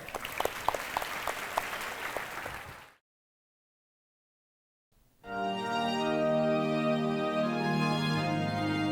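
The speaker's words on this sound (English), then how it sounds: "So let us all welcome our younger brothers with a huge round of applause." Audience applause welcoming younger students as performers at a school Teachers' Day celebration, a dense burst of clapping for about three seconds, then silence, then music with singing.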